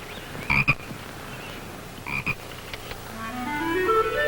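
Toads croaking in two short close bursts, each a rapid rough rattle, followed by a rising tonal sound near the end, with no voices.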